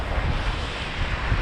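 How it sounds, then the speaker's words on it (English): Cold winter wind sweeps along an open Lake Michigan shoreline at Point Beach State Forest in Wisconsin, a steady loud rush of gusts with no voices. "It's windy today."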